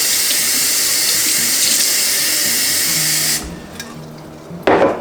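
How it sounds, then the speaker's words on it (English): Tap water runs loudly and steadily, rinsing sprouts in a mason jar for about three seconds, then cuts off. A short quiet gap follows, ending with a single brief knock or clunk. "Give them a good rinse."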